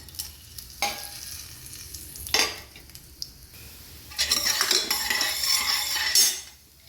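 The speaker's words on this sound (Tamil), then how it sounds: "எண்ணெய் சூடாயிடுச்சு, கடுகு உளுந்த பருப்பு, கடலைப்பருப்பு சேர்த்துக்கோங்க." Mustard seeds, urad dal and chana dal fry in hot sesame oil in a pan, a busy crackling sizzle with spoon stirring and scraping that swells loudest in the second half, with no voices.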